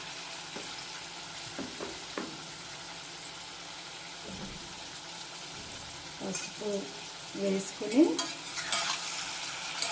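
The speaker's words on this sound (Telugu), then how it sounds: "ముందుగా రొయ్యలను వేసుకొని ఫ్రై చేసుకోవాలి" Prawns fry in oil in a pan with a faint, low sizzle, broken by occasional stirring scrapes that grow louder toward the end; a voice speaks briefly over it.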